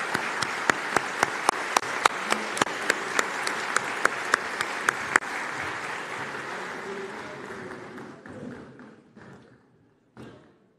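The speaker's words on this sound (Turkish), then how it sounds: "Ayakta alkışlar" Standing ovation at a party group meeting: steady massed applause with loud rhythmic unison claps for about five seconds, then dense clapping that thins and fades out near the end.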